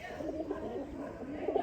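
Breeder pigeons, a pair of Sialkoti rooftop birds, coo softly and continuously in a low, murmuring tone, with a few brighter coos near the end.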